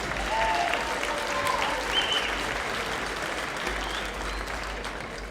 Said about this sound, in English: Yeah, it's okay to cheer.